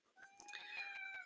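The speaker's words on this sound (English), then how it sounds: "my cat meowing like a banshee" A house cat meows loudly in a drawn-out, wailing yowl, close by and harsh, rising in a series of bursts over a quiet room.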